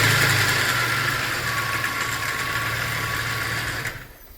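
A Holden Rodeo V6 petrol engine (H1) idles steadily with a light metallic timing chain rattle running through it, close by and alone, cutting off near the end.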